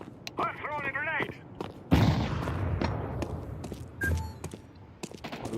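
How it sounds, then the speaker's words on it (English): A grenade detonates in Counter-Strike 2 with a loud, sharp boom followed by a rumbling tail, preceded by a brief voice and mixed with other gunfire and game sounds. "I'm throwing a grenade."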